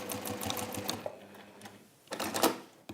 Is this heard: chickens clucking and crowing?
no